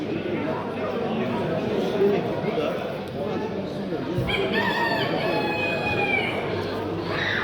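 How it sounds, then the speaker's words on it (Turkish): A champion rooster at a poultry fair crows once in a long drawn call near the end, following a stretch of busy crowd noise and chatter from people at the show. "Gerçekten güzel bir horoz."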